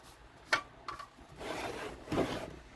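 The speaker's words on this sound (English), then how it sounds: "Now let's just wipe off the fuel tank a little bit." Cloth rubbing over a small Briggs and Stratton engine's fuel tank makes a few soft, close scuffs and wiping strokes, quiet and irregular.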